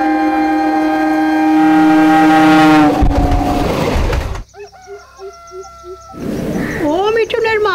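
A train sounds a loud, sustained horn, followed by heavy rolling rail noise and then a burst of shrill, tonal calls at close range.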